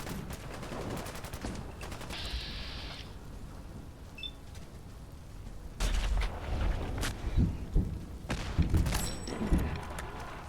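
Grenades blast during a battle in Fallout: London, mixed with scattered gunfire. Sharp cracks come at first, then a cluster of heavy, booming bursts fills the later half at moderate loudness, with no talking.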